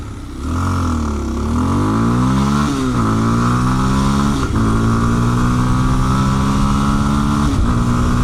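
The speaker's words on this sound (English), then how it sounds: "Let's see what we can do with all 17 horsepower out of this 233" A Kawasaki KLX230 Sherpa S dual-sport with a 233cc single-cylinder engine accelerates hard up close, its buzzy note climbing in pitch through several gear shifts.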